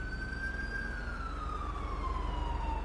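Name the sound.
police sirens in a video game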